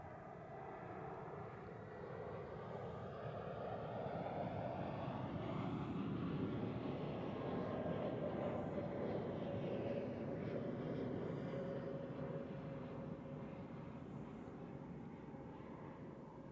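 An Airbus A320neo jet comes in to land at Zurich Airport, its engine roar swelling to a broad peak and then fading slowly, heard from a distance, steady and unbroken.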